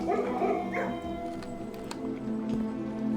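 A dog in the video game Blue Prince gives a few short barks and soft whimpers, close and fairly quiet, over a low game background.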